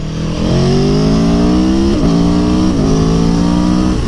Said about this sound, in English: Yeah, that V4, baby. Yeah, it sounds like a Moto GP bike.